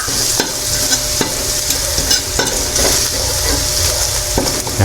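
Garlic browning in a pan for chicken sotanghon, a steady loud sizzle of frying with repeated scraping and stirring clicks of a utensil against the pan, close up.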